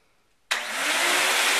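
A vacuum cleaner switches on abruptly after near silence and keeps running with a loud, steady broadband roar, close up, with no talking.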